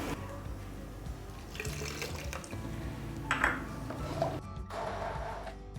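Half a cup of water is poured into blended chutney in a kitchen, a soft trickling splash amid low background hum and faint clatter, with no talking.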